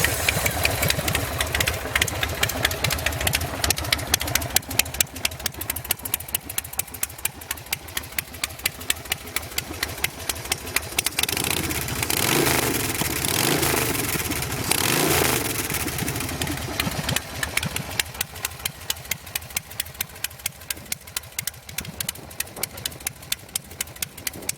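A custom Buell Lightning bobber chopper idles low and lumpy, its big V-twin thumping in a loping rhythm up close, with a short blip of revs in the middle before settling back to a steady idle.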